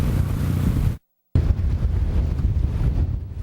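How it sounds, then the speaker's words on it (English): Huge storm waves pound Buffalo's waterfront in high winds, a loud, dense roar of surf and gusting wind buffeting the microphone, broken by a brief cut to silence before the rumbling crash resumes with no talk. "Huge waves blasting to shore, pushed by high winds, continue to blast Buffalo's waterfront."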